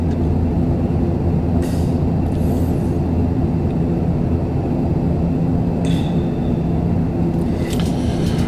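The turboprop engines of an ATR 72-500 in a flight simulator game give a steady, loud, broad drone while the aircraft taxis, with a few brief hissing bursts over the top.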